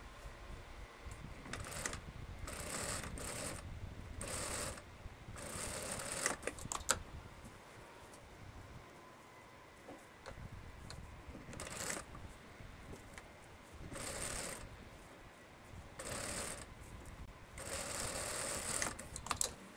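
A sewing machine stitches a French seam on a ruffled skirt, sewing the wrong sides together in short, close bursts of rapid mechanical chatter separated by brief pauses, with no talking.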